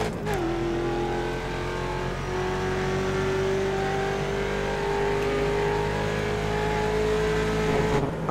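Mustang Challenge race car in iRacing at Spa, its engine snarling loudly as it powers out of a corner. A steady rising whine runs over a dense, continuous roar throughout.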